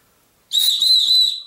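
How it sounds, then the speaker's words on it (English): A small survival whistle on a Gerber Bear Grylls fire starter, blown barely, sounds a single steady, thin high tone for about a second after brief silence, soft but clear, with no talking. "got a decent little whistle there on the end"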